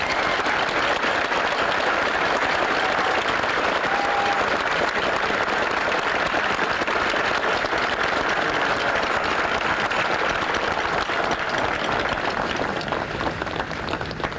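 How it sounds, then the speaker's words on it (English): Ship's company of HMCS Ontario applauding steadily at a 1987 graduation ceremony, a dense, sustained wash of clapping from a large crowd that holds level throughout with no break. "give a round of applause to,"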